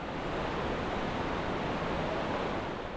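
Glacial meltwater creek rushing through a mountain valley near Whistler, a steady broadband roar of churning water heard close and continuous with no voices.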